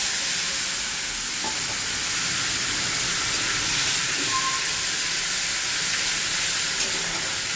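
Spices sizzle and hiss steadily in a hot pan for a hilsa fish head curry, a bright, even frying crackle close by with faint stirring taps and no talk.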